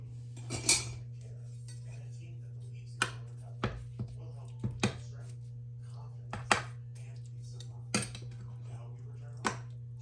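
Cutlery scrapes and clinks against a plate as baked chicken spaghetti is dished out, close and sharp, about ten separate knocks and scrapes spread irregularly over a steady low hum.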